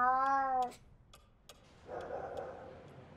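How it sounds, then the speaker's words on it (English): A cat meows clearly in a cartoon story setting, one long tonal meow near the start, then a softer second meow after a pause, with faint ticking clicks between. "And Luis was a cat about town once more"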